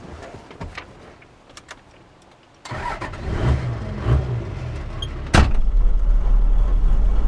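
A Toyota HJ47 Land Cruiser is started after a door clunk, with the engine cranking and then catching into a loud, steady low idle close by.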